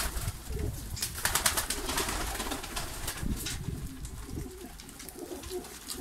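A flock of Malatya and wing-post pigeons coos continuously in a loft, soft overlapping throaty calls mixed with rustling and fluttering, close and steady throughout.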